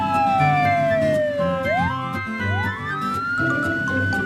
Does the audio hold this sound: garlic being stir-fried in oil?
no